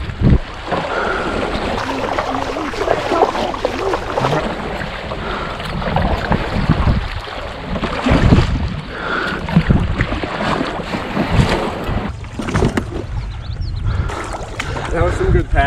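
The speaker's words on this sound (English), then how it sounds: "That was some good paddling." A kayak is paddled on the Mississippi River, with water splashing and sloshing under heavy wind buffeting the microphone while people talk over it.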